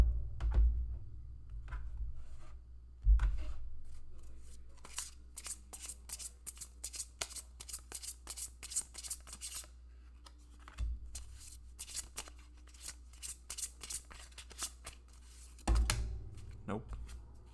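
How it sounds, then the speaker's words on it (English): A deck of tarot cards is cut and handled, making soft, close flicks and riffling clicks in quick irregular runs, with a few thumps and some quiet talking. "Let's cut the deck, actually. I feel like we need to cut the deck."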